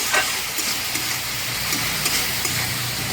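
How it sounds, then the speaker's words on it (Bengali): Spice paste with cumin powder sautéed and stirred in a pan, a close, continuous frying sizzle with soft scraping strokes of the spoon at an even pace. "মশলাটা একটু কষিয়ে নেবো।"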